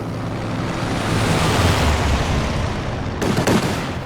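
Bomb drops in the strategy game Company of Heroes 2: a broad, surging roar of overlapping detonations swells and rolls continuously, with a burst of sharper impacts toward the end.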